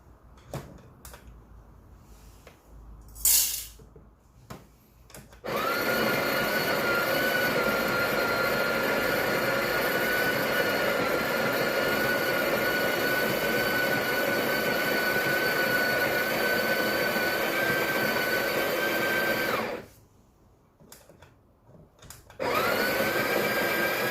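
A Breville Barista Pro BES878 burr grinder runs at grind setting 1 with the inner burr at 6. It gives a loud, steady, close grinding whir for about fifteen seconds, with short clatters before and after.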